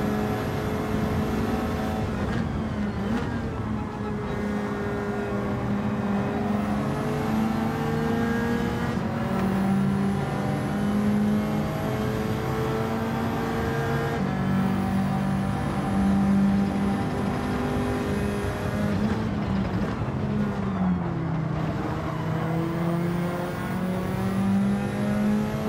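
A Bugatti Veyron engine in Gran Turismo 7 revs hard and continuously, rising through the gears with brief dips at shifts, loud and close throughout.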